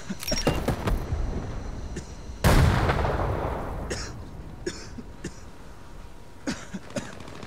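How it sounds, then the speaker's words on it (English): Enemy mortar fire in the shooter game Hired Ops: a heavy blast rolls into a long fading rumble, followed by scattered sharp cracks and softer impacts in the distance. "Enemy mortars working."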